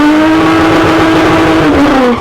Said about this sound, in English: That was an all-wheel drive GTR doing a rear-wheel drive burnout.